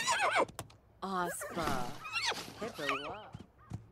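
A horse in The Sims 4 ranch life neighs in several shrill, wavering whinnies, close and clear, with a few hoof clops and a person talking between them.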